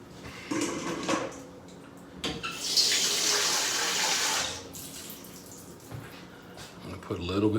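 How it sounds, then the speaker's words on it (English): Tap water runs into a pan to make a water bath for a 9-inch springform cheesecake, a steady rushing splash for a few seconds amid kitchen clatter, with a person talking. "I'm gonna put a little bit more water in here so we have some depth here going on."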